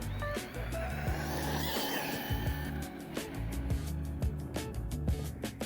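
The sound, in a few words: RC car braking and tires skidding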